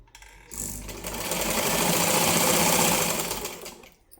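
Sewing machine running steadily as it stitches a lining blouse, a continuous close mechanical whirr that builds up after a brief start and holds loud before easing off at the end.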